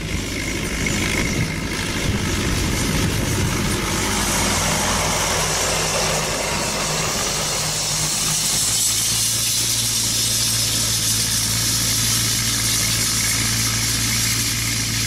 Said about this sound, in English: What a lovely, lovely little tractor that is.